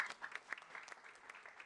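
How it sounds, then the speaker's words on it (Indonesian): A small audience at a sermon gives brief, scattered applause, with sparse, faint, uneven claps for under two seconds. "Tepuk tangan dulu."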